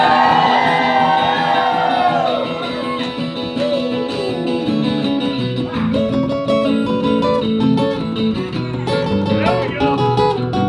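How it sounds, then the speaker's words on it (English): A concert crowd at a songwriters night at Coda screams, whoops and cheers loudly over ringing, sustained music, keeping up a dense roar throughout. "Somebody scream in this joint!"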